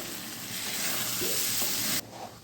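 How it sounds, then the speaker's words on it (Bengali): Soybean chunks sauté in a hot pan with a steady, close sizzle and the light scrape of stirring; the frying hiss stays loud throughout, then drops noticeably near the end. "আর এখানে সোয়াবিন কষা হচ্ছে"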